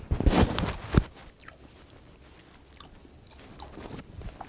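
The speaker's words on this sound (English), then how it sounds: "I'm gonna crunch over this" Crunchy bites into Japanese KFC food, including a cheese pie, with loud close crackling bursts in the first second followed by quieter, softer chewing that carries on to the end.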